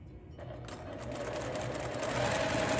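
A sewing machine stitches quilt block squares in a steady, close, rapid hum that builds slightly in speed and ends abruptly, heard alone.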